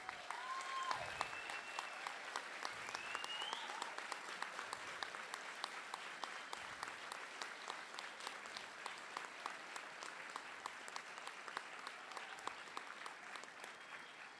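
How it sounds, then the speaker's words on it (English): A standing conference audience applauds warmly, a steady wash of many hands clapping that stays even and sustained throughout, with a few brief voices and whistles rising above it. "communicate by your applause your love for the people of Israel"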